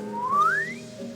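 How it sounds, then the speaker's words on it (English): A clown's slide whistle in a video game, one rising glide climbing smoothly over a steady hum of background music. "Clown blows his slide whistle again as you approach."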